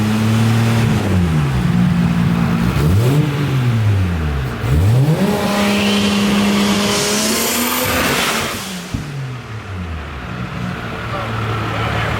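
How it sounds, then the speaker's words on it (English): Loud cars at an H2Oi car meet in Ocean City, Maryland rev their engines repeatedly, each rev swooping up and back down, with a squeal of tires and passing engines nearby amid crowd noise. "Nothing like some loud cars in the morning."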